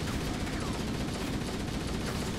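Sustained rapid gunfire in Halo: Combat Evolved, a continuous loud rattle of shots with no gaps.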